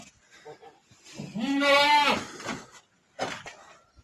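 A goat on a farm at morning milking time gives one long, loud, wavering bleat close by, with fainter shorter bleats and shuffling before and after.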